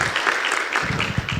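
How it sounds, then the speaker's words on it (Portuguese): Audience at a talk opening applauds a speaker, a brief burst of moderate clapping with a few distinct claps standing out. "Uma salva de palmas para o Clóvis Bergamo Filho."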